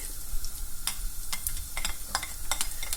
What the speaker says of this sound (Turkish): Bunun üçün yağımızı alırıq qazana ve soğan tökülür